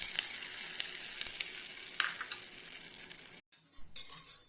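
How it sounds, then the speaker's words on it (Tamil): Mustard seeds, urad dal and curry leaves tempering in hot oil for a chutney, giving a bright continuous sizzle with light crackles close up, then cutting off abruptly before a few clinks and a final burst. "நான் எண்ணெய் ஊற்றி வச்சிருக்கேன். கடுகு, உளுந்து, கருவேப்பிலை போட்டு தாளிச்சிட்டேன்."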